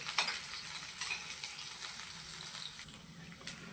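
Garlic and ginger frying in hot oil over high heat for veg hakka noodles, a steady close sizzle with light crackle and occasional stirring scrapes throughout.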